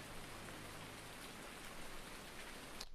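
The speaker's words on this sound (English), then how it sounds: "we've got bloody rain" Steady rain patters and hisses on surfaces, a dense, continuous wash of drops with no voices.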